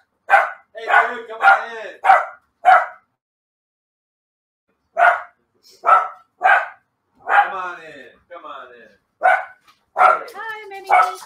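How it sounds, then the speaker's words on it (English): An indoor dog barks in sharp, loud bursts, a quick run of barks, a pause, then more barking with some whining, while a person briefly speaks. "I'm going to mute the barking for a second."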